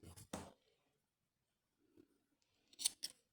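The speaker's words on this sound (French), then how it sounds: "je vais couper mon fil" Scissors cutting crochet yarn: a few sharp close snips, one at the start and a quick pair near the end, separated by near silence and faint handling.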